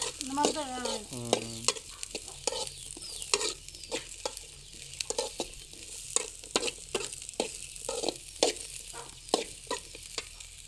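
Bitter gourd frying in a pan, with crackling sizzle and repeated scraping stirs of a spatula; a brief clattering clink near the start.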